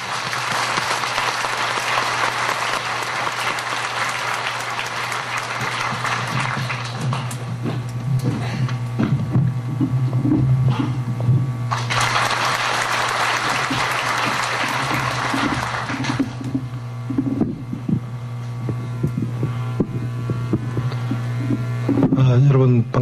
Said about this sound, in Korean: 뜨거운 박수로 환영해